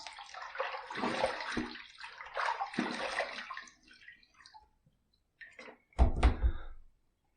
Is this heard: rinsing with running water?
yes